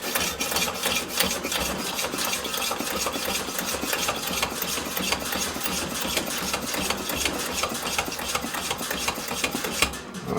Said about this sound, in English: Let's go ahead and pump this up and see if this tank even holds air. I'm going to start with about 30 pumps.